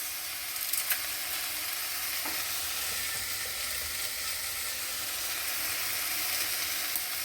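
Dried bay leaves sizzle and fry in hot oil for okra curry, a steady close hiss with faint stirring clicks throughout.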